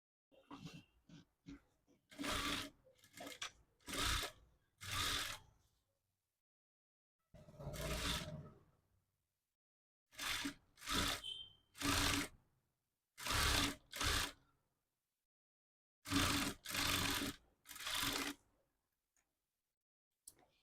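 Sewing machine stitching a blouse in short, separate bursts of rapid mechanical clatter, each lasting about a second, with silent pauses between runs.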